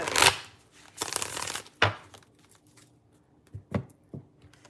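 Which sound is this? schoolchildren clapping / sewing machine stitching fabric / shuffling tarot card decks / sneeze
shuffling tarot card decks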